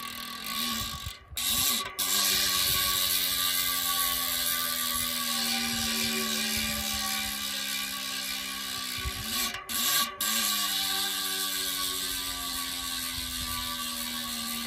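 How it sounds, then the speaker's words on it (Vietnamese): A Mavic Cosmic Pro Carbon SL carbon bicycle wheel spins freely, its freehub ratchet buzzing in a fast, continuous whirring click with a faint tonal hum, close up and steady for the whole stretch. "Và cái tiếng cối líp của nó thì kêu rất là hay các bác nhá."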